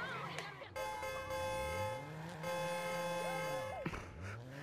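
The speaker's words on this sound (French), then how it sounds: "Arrête de klaxonner." A car horn in the video game Watch Dogs sounds in long sustained blasts, holding steady tones with short breaks between them, over game background noise and low engine-like rumble.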